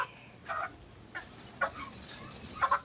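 Several short, soft clucks from a chicken come in scattered bursts against quiet background hiss, faint and somewhat close, with no talking.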